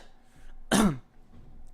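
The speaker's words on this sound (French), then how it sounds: "Attention, j'ai toussé." A man gives a single short, harsh cough, close and loud, over a quiet background with no talk.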